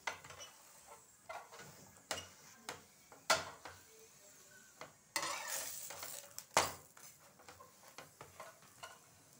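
A spinach paratha cooks on a hot pan with soft sizzling and repeated scraping and pressing knocks from a spatula, close and fairly quiet, with no talking.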